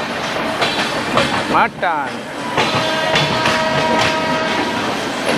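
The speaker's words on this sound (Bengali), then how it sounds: "এটা ট্রেনটা ছেড়ে দিল বিলাসপুর জংশন" Azad Hind Express passenger train running on the line out of Bilaspur Junction, a steady loud rumble and rattle of wheels heard from inside an AC coach, with a brief voice breaking in partway through.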